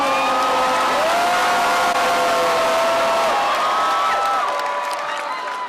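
A large crowd cheers, whoops and claps loudly and continuously, with whistles rising above the roar before it slowly eases off.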